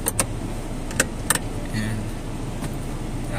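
Traffic heard from inside a car in slow, congested traffic: a steady low road and engine rumble fills the cabin, with a few brief clicks and rattles from inside the vehicle and no talk.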